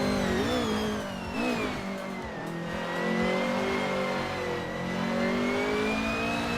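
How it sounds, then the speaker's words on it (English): A 2018 Ford Mustang GT4 races in a video game, its engine roaring loudly and continuously, pitch dipping and climbing through gear changes and revs. "Quiz 44 is driving a 2018 Ford Mustang GT4i."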